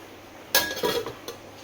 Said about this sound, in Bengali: এখানে দেখো কত বাসন জমে গেছে, সব এখন ধুতে এসছি